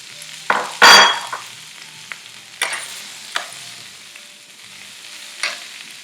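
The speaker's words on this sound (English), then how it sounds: "we're going to take some fresh spinach, and we're just going to put that on the flat top too" Fresh spinach cooks down on a flat-top griddle, giving a soft steady sizzle broken by a few sharp rustling, scraping bursts as the leaves are moved, with no voices.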